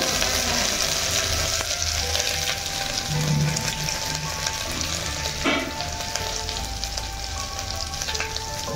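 Ginger and cumin seeds with bay leaf sizzle steadily in hot oil in a pan for khichdi, with intermittent stirring scrapes over the continuous frying hiss; no one speaks.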